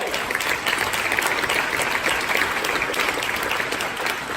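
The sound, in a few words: audience applause at a keynote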